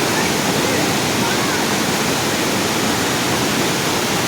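Kalarandi waterfall pours in a steady, dense roar of falling water, loud and close, with no break across the whole stretch.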